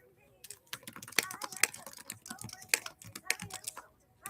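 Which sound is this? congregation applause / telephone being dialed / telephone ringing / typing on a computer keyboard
typing on a computer keyboard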